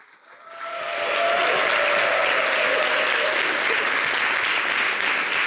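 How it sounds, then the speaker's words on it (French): Studio audience applause on a television show, rising quickly from near quiet into steady, full clapping that stays loud and even to the end. "Merci de l'applaudir."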